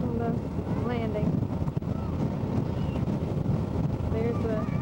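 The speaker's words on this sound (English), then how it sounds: "It's really windy out here today." Strong wind buffets the microphone on the open deck of a moving ferry crossing from Fort Fisher to Southport, a constant roaring rush with low engine and water rumble beneath and faint voices talking.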